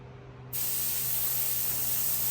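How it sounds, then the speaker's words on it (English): Air from a Lexus ES350 tire bursts into a strong, steady hiss once the valve stem is removed, starting suddenly after a half-second of quiet and staying loud and close, with no voices. "I got all the air out of the tire."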